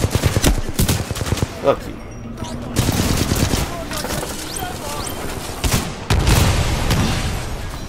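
Shotgun blasts and heavy gunfire in the Titanfall 2 campaign come in loud bursts separated by brief lulls, with a player talking briefly over the shooting.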